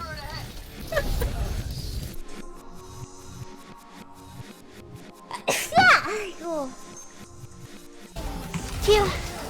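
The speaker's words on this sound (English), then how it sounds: "Oh, sorry, I had to sneeze." A person sneezes once sharply near the middle, with a brief inhaled build-up just before it, and people talk around it.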